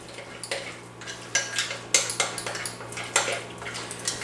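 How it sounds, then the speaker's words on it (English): Flour is worked into a moist bread dough in a bowl with a utensil, giving a steady run of scraping, knocking strokes about twice a second. The strokes are close and fairly loud over a low background hum. "So mix all this flour in."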